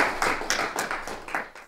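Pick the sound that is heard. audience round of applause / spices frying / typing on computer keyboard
audience round of applause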